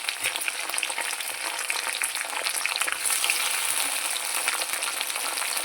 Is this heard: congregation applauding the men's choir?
no